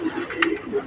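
Domestic pigeons give brief, soft cooing notes close by, a few short low coos in a quick sequence, with someone talking over them.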